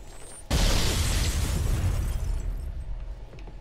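A loud rocket launcher blast from Halo: CE booms in abruptly after a brief quiet, then a dense roaring rumble decays slowly over several seconds.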